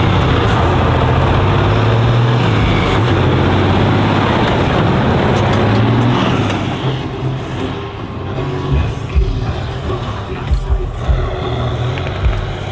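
An old Eastern Bloc military vehicle's engine runs at a military day event in Hodonín, a loud, heavy rumble close by that eases after a few seconds into a lower, uneven idle with outdoor noise.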